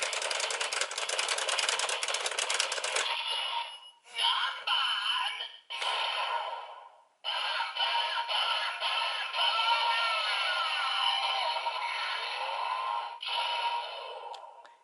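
Electronic PowerRider toy vehicle sound effect, a hissing, buzzing whir with a few short breaks, played close and moderately loud.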